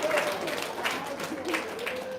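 An audience applauds during an Indonesian talk. The clapping is moderate and steady, with a voice continuing over it.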